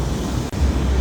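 Rough sea waves roll and crash under strong wind on a shore, a loud continuous roar with heavy wind buffeting the microphone.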